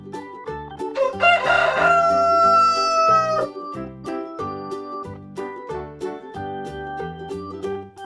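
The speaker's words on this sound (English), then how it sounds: "Rooster." A rooster lets out a loud, close cock-a-doodle-doo that rises and holds for about two seconds, followed by a string of short clucking notes with no talk.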